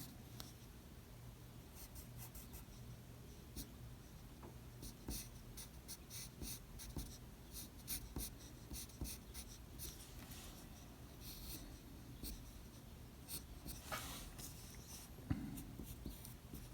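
Pencil strokes scratching across paper while sketching a flexed male arm, a steady close-up rasp of short repeated lines with brief pauses, heard alone without talk.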